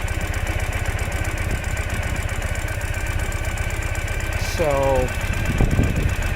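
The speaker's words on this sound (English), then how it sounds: "we're gonna put the bike in first gear, release the clutch slowly, and we're actually good to go" A 2015 Ural Gear Up motorcycle in Asphalt Grey runs at a steady idle close by, its engine giving an even low mechanical thrum throughout, with a short voice and a brief rising sound near the end.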